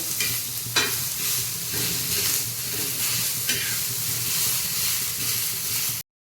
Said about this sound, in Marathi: त्याच्यानंतर आपल्याला टाकायचं कांदा एक छान असा आपल्याला लाल होईपर्यंत भाजायचा आहे